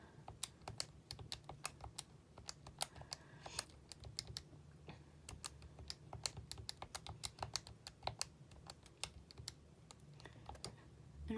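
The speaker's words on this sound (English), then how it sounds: "so we type this in our calculator" Numbers keyed into a calculator during a statistics problem: a long steady run of quick, crisp plastic key clicks, close and fairly faint, with no talking.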